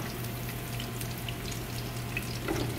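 Tiny meatballs sizzling in hot oil in a pan, a steady dense crackle and hiss with occasional louder pops near the end, close and continuous.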